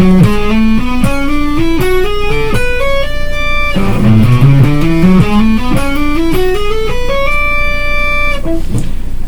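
Guitar running an A Ionian mode scale legato, smooth connected notes flowing up and down in a continuous, clear melodic line with ringing harmonics, played alone and loud.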